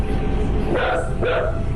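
A dog gives two quick barks close by over a steady background hum.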